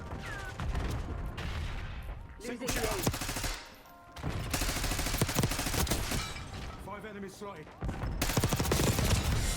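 Sustained automatic rifle fire from an XM4 in a Call of Duty gunfight, dense rattling bursts nearly throughout with brief lulls and a short gap near the middle, loud and close, with faint game sounds underneath.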